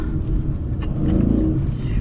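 A Dodge Charger SRT8 with a 6.1 V8 engine rumbles through its exhaust in a deep, steady, loud drone that lasts about two seconds.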